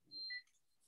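Brief electronic beep from a phone left connected in a meeting room, a short two-tone chirp lasting a fraction of a second, faint and alone.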